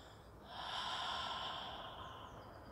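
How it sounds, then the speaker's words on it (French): A slow, breathy exhale like fogging a windowpane during a Pilates breathing exercise, one soft airy rush that swells and gently fades, close and quiet with no speech. "puis expire en faisant de la buée sur un carreau"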